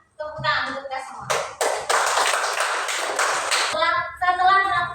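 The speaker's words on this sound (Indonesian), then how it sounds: "Tepuk tangan untuk kita semua." Children clap their hands together in a primary-school classroom in Indonesia: a loud, close burst of group applause lasting about two and a half seconds, with voices speaking before and after it.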